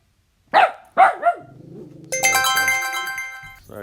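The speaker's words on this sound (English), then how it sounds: "He had a little bark session." A puppy lets out two or three sharp, close barks, followed by a loud chiming, ringtone-like melody that plays for a couple of seconds.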